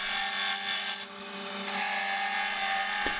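A wooden mallet handle is shaped by hand with a rasp or file, giving continuous close scraping strokes with a brief pause, and no talking.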